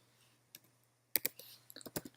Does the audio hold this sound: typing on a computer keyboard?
yes